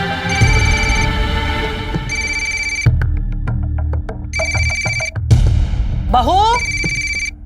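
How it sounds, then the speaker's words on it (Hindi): A telephone rings in repeated electronic bursts, loud and close, with a steady tone pattern broken by short gaps, while a person speaks briefly over it. "अरे फोन क्यों नहीं उठाती तुम?"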